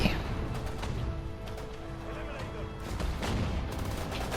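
Cannon fire in the WWII strategy game Sudden Strike 4, a clatter of distant booms and scattered shots layered over continuous battlefield noise.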